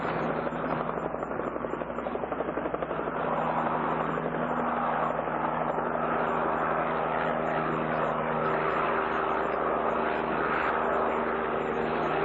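A police helicopter flies overhead with a loud, steady rotor thump and engine roar, constant and close throughout, with no other sounds breaking through.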